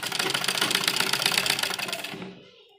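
A sewing machine stitching the shoulder seams of a kurti made from an old dupatta, running in a fast, even mechanical rattle for about two seconds before slowing and stopping.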